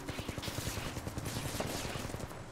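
Rapid video game gunfire crackles in dense, repeated bursts of shots, a fast rattling rhythm of many bullets heard continuously at moderate loudness.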